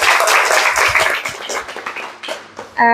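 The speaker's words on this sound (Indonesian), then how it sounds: "Oke, tepuk tangan dulu semuanya" Staff at a company morning briefing clap their hands together, a loud burst of group clapping that thins and fades over a few seconds before a tonal sound cuts in at the end.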